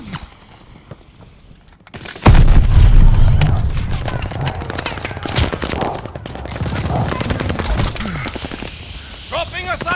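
Grenade blasts and gunfire in the multiplayer shooter Call of Duty: Vanguard on a Hardpoint match, a heavy burst of rapid shots and booming hits starting abruptly after a quieter opening, then continuing in dense clattering volleys.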